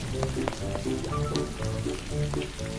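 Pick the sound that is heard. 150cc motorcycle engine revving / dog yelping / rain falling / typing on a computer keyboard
rain falling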